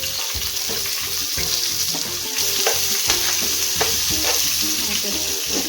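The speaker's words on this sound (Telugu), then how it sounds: "పచ్చిమిరపకాయలు, ఆనియన్స్ వేసేసుకుని ఫ్రై చేసుకుందాం." Green chillies and onions fry in a pan for chicken mandi rice, giving a loud continuous sizzle close by, broken by repeated scraping stirs. Nobody speaks.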